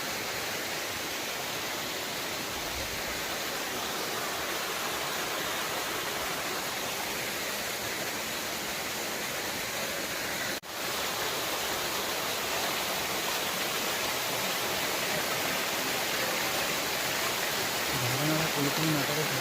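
A forest waterfall at Tapoban in Dhenkanal rushes over rocks, a loud, steady broadband roar that fills the whole stretch without pause.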